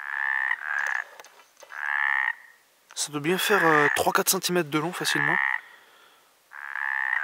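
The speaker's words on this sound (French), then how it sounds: "il y a les grenouilles ou les crapauds. Là c'est les crapauds" Toads croaking at a pond full of amphibians, repeated loud buzzing trills close by in bursts with short gaps, while someone talks over the middle stretch.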